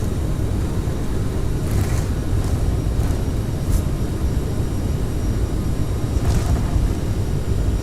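An Airbus airliner on its takeoff roll in Microsoft Flight Simulator 2020, a steady, loud broadband engine roar with deep rumble that holds evenly throughout, with a few faint brief clicks and no voices.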